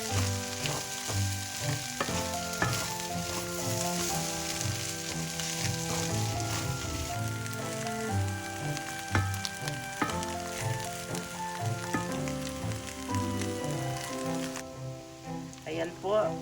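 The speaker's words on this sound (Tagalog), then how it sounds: "Kaya ayan, inuna nating ilagay yung carrots." Carrots stir-frying in a pan for Filipino sinangag fried rice: a steady, close, rain-like sizzle with occasional clinks of the utensil against the pan, and background music playing throughout.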